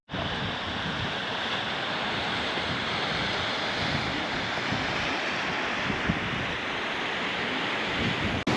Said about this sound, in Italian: Vedi che cosa fa il mare? Il mare è tosto.